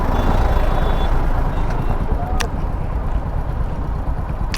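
A vehicle backs up to park at Chopta, with a loud, steady engine rumble and a few sharp reversing beeps over it. Faint talk is heard nearby.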